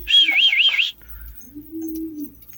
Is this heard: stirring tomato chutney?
no